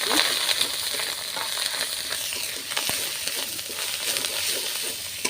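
Cumin seeds, coriander and bay leaf frying in oil in a pan for a prawn malai curry, a continuous crackling sizzle close by with scattered sharp pops and stirring scrapes, no voices.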